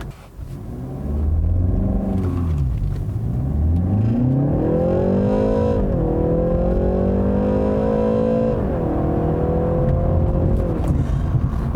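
A BMW 3 Series sport sedan's engine revs up loudly through the gears, pitch climbing and dropping at each shift, a steady close mechanical roar.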